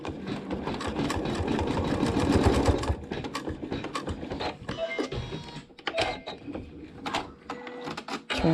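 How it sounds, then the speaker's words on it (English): A sewing machine stitches a quilt block seam with a busy, rattling mechanical hum. It runs fairly close and steady, then breaks into shorter bursts with clicks and handling noises toward the end. "Stitch the seam."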